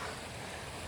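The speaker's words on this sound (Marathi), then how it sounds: "हा मेन धबधबा" A waterfall in hilly forest terrain, heard as a steady, dense broadband rush of falling water, continuous and fairly distant, with no voices over it.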